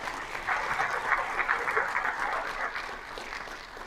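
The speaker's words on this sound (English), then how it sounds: "Give them one more round of applause" Audience applause in a school district's State of the Schools event hall, a moderately loud, steady wash of many hands clapping that holds evenly and tapers slightly toward the end.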